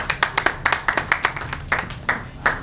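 A comedy club audience gives scattered applause, a small group of distinct, fairly loud claps in an uneven rhythm that thins out toward the end.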